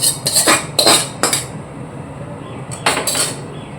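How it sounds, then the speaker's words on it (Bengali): Meat tipped into a pot of biryani layered with rose water, giving a few sharp clattering scrapes and clinks of metal utensils against the pot, close and fairly loud, with a quieter gap between bursts. "এবার পুরো মাংসটাই ঢেলে দেবো"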